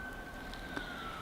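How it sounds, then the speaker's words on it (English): A faint siren wails in the distance, a thin steady tone over quiet background noise. "Oh, I hear sirens."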